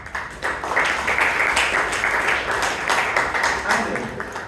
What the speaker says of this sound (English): A big applause to Nitish for this